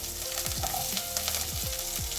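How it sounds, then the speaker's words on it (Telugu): Onions hit hot oil with tempered spices in a home kitchen for a chutney, giving a steady, loud sizzle and frying hiss with a few scraping stirs throughout. "తర్వాత వేగిన పోపులోకి మనం ఉల్లిపాయలు,"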